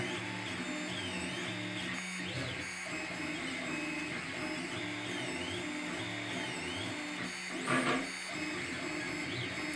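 A Monoprice Select Mini 3D printer hums and whines steadily as it prints, its stepper motors producing shifting tonal sweeps and buzzes, with a brief louder clatter near the end and no talking.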